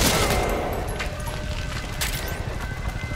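Rapid bursts of gunfire from the Metal Gear Solid V prologue in a hospital setting, dense and continuous through the whole moment with faint overlapping game sounds.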